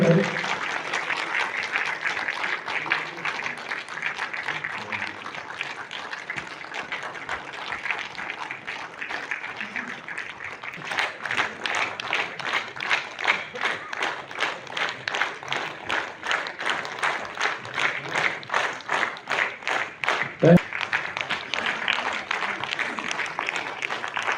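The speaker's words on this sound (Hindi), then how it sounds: "तालियां हो जाए।" Steady applause from a crowd at a youth association oath-taking ceremony runs throughout, growing into denser, more rhythmic clapping in the second half, with a brief louder thump near the end.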